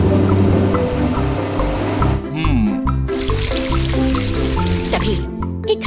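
Water spraying in a cartoon car wash among spinning brushes, dripping and splashing alongside upbeat music, with a narrator speaking over it and a sudden burst of louder spray midway.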